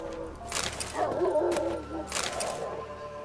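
A dog in The Witcher 3 barks and whimpers in short bursts, close and fairly loud, over low game ambience.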